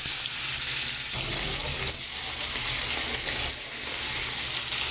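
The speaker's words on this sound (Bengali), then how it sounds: "এইবার আমি মাছগুলোকে একে একে সব তেলের মধ্যে ছেড়ে দিচ্ছি।" Bhola fish frying in hot oil on a gas stove turned low, a steady broadband sizzle and hiss that runs continuously and close throughout, with no talking.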